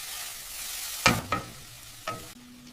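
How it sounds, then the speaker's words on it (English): Vegetables seasoned with pepper frying in a pan on a stove, a soft steady sizzle broken by a few brief scraping stirs of a utensil against the pan. "I cook the vegetables."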